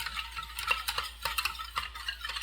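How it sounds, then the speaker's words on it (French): A whisk or spoon keeps stirring custard cream in a pot over the heat for a chocolate ganache cake, giving quick repeated scraping strokes against the pan in an even rhythm, close by, with no talk. "Je vais mettre au feu là et il ne faut pas cesser de remuer jusqu'à ce que vous aurez une crème épaisse"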